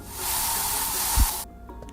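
Plants sprayed in the video game I Am Future, a steady airy hiss lasting over a second that cuts off abruptly, followed by quiet game ambience.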